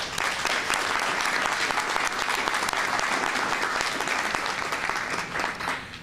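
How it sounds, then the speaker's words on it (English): Crowd applause at a ribbon cutting for the First Women's Charter Bank: steady, dense clapping from many hands, moderately distant, lasting about six seconds before tapering off at the end. "Round of applause for everyone."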